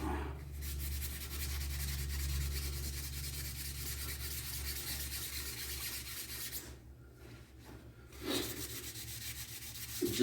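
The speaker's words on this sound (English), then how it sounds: "Just using a Scotch-Brite." A Scotch-Brite pad rubbed over the face of a GT40 transmission adapter plate that the clutch has grooved, making a steady close scrubbing sound over a low hum, with a brief pause near the end.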